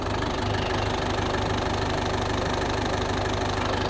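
A car engine runs steadily, with the cap open on a faulty radiator, as the throttle is pressed. It gives a loud, continuous mechanical drone with a fast knocking pulse and no talk.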